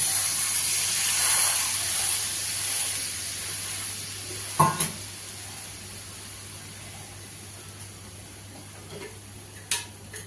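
Tamarind water hits a hot pan of bitter gourd for pitlai, setting off a steady hiss and sizzle that slowly fades, with a couple of sharp utensil knocks against the pan.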